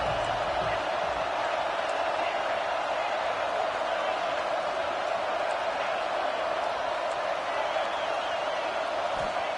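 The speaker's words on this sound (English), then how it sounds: "And the crowd coming to life here, trying to help this defense down in the red zone." Steady, dense crowd roar in a college football video game, a constant wash of cheering noise sustained throughout without breaks, with no distinct individual voices standing out.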